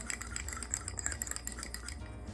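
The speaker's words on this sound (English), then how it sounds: "Give it a good whisk." Ground nutmeg and other dry pumpkin pie spices whisked together in a bowl, a quiet, quick scraping and ticking of wire against the bowl, close and continuous.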